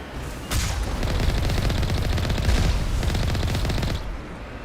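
Rapid automatic turret fire rattles in a Mass Effect battle, a dense, loud stream of shots that starts abruptly and continues for several seconds before tapering off.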